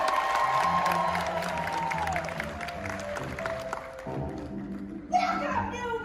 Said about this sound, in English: Let's start them off with a lot of applause because it always helps.